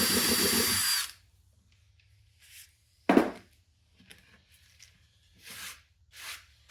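A power drill boring a 1-inch hole into a wooden wood-splitter base, one loud burst of drilling that stops abruptly, then quiet with a few brief clunks and rustles.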